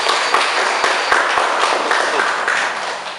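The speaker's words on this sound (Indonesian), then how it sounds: "kita kasih tepuk tangan dulu" A class of students applauds after a group presentation, steady close clapping with distinct sharp individual claps standing out over a dense wash of hands.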